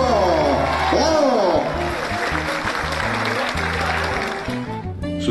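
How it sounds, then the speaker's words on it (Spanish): An audience at an award ceremony for honoured staff of the education office in Chocó, Colombia, claps loudly and steadily, the applause mixed with music and a few shouted voices throughout. "¡Un fuerte aplauso!"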